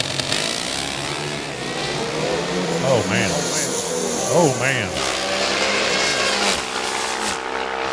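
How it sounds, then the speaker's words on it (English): Pro Stock drag racing motorcycle engine at the NHRA U.S. Nationals, a broad roaring wash of race noise running the whole stretch while a nearby voice speaks briefly over it. "Final pair, first session, Pro Stock motorcycle"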